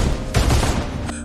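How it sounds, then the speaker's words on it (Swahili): A short, loud burst of rapid gunfire sound effect crackles in a dramatized audio story, with several quick shots packed together and no talk over it. "Zungu alifyatua risasi mfululizo kuelekea kwa mlinzi huyo."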